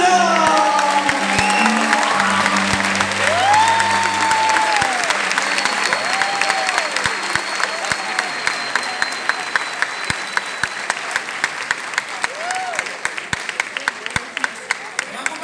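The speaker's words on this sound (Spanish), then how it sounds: "Con todos ustedes, con un fuerte aplauso, le recibimos a Rolando Cristaldo." A live concert crowd gives strong applause welcoming a 36-string harp player, with loud dense clapping and some cheering under whistles and shouts, sustained then thinning to scattered sharp claps toward the end.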